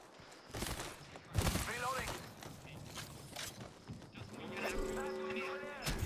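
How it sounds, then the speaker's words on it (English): Bursts of gunfire from an Apex Legends match, several quick volleys and sharp cracks mixed with game effects and music, heard under ongoing talk. "Oh, they're shooting at that other team."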